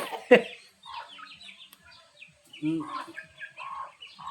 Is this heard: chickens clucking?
yes